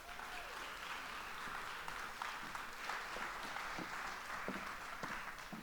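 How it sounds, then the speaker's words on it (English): An audience applauds a White House official on stage with dense, continuous clapping that holds at a steady, moderate level for over five seconds, with no speech over it. "Give her a round of applause, please."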